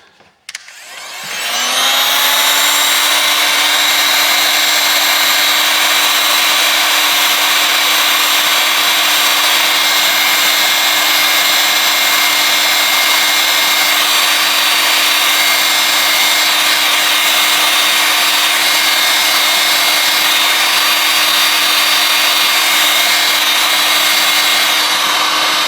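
A heat gun switches on with a brief click, then runs as a loud, steady whine and airflow roar for over twenty seconds while warming a Caterpillar CAT S62 phone to loosen its battery, with no talking.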